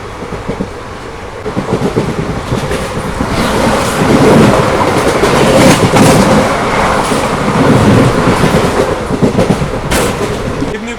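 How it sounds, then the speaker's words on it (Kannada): An express train bound from Sindhanur to Bengaluru rumbles past at a crossing, a loud continuous roar with rhythmic wheel clatter that swells toward the middle and stays heavy throughout. "ಇದು ಸಿಂಧೂರಿಂದ ಬೆಂಗಳೂರಿಗೆ ಹೋಗುವ ಎಕ್ಸ್ಪ್ರೆಸ್ ಟ್ರೈನ್ ಕ್ರಾಸಿಂಗು"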